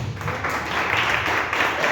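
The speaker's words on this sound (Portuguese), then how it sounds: "Mais uma salva de palmas para o Senhor." A church congregation applauds together in sustained, steady clapping that fills the room evenly from start to finish.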